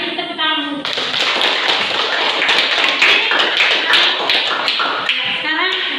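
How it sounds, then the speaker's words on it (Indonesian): A classroom of pupils claps for groups who have just presented, a burst of sharp, close taps and hand claps lasting several seconds, with voices heard briefly before and after. "Mari kita tepuk tangan dulu."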